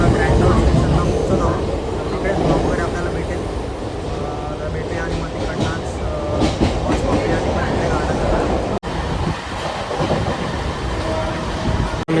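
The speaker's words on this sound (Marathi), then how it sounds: "विरार स्टेशनवरून ट्रेन पकडली" Rumbling, clattering noise from inside a moving Mumbai suburban train from Virar, steady and fairly loud, with voices murmuring beneath it.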